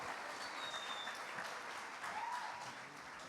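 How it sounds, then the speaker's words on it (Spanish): Steady audience applause fills about three seconds as a speaker is welcomed at a talk in Spain, a dense, even patter of many clapping hands with no voices over it. "Un aplauso."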